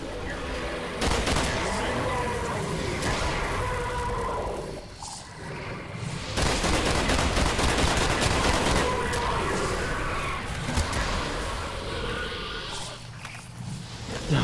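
Gunfire in Call of Duty Black Ops, played as a multiplayer session, comes in loud bursts of rapid automatic shots with short pauses between volleys, mixed with footsteps and game noise.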